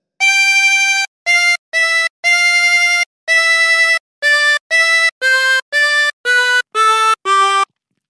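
Harmonica playing a phrase of "O Come All Ye Faithful" as twelve clean, separate notes, blown and drawn, at a steady pace with short gaps between, loud and alone.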